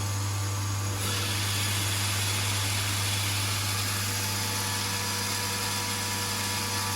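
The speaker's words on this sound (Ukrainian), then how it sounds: "Дивимось, осмос запрацював." A reverse osmosis system at a self-service car wash runs with a steady low mechanical hum and hiss, a brighter whine joining after the first second, no talk.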